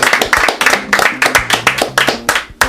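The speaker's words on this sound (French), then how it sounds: "merci à tous, on peut vous applaudir" Close, loud hand clapping from a small group after a radio interview, sharp individual claps in an uneven rhythm, with no talking over it.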